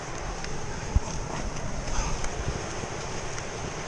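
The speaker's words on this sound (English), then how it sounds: "Beautiful little waterfall slash cascade there." A small waterfall cascade in a wilderness canoe area makes a steady, broad rushing roar throughout, close and fairly loud, with light wind noise mixed in.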